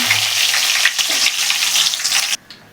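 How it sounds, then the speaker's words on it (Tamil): Dried red chillies and curry leaves sizzle loudly in a hot kadai, with a steady crackling fry and a brief stir, cutting off abruptly near the end. "கடாய் நல்லா சூடாயிடுச்சு நம்ம காஞ்சி மிளகா போட்டுக்கலாம் கருவேப்பிலை போட்டுக்கலாம்"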